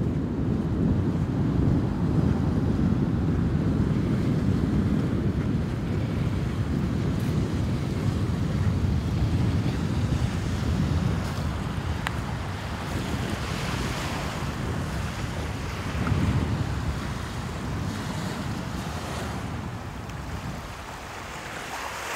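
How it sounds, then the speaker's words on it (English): Surf breaks steadily on the beach at Biloxi, Mississippi, in front of a motel, a continuous loud wash of waves with wind buffeting the microphone and no voices. "So right here on this beach in front of the White House Motel in Biloxi"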